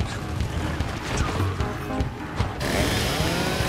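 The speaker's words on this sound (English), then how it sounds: "Y'all wanna see some chainsaw action?" Chainsaw attack in the video game Gears of War 4, a dense, loud mechanical roar with crunching impacts running continuously throughout.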